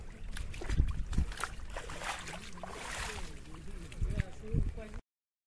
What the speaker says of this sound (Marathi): बघा पाणी कसं वाहतं आता बघा.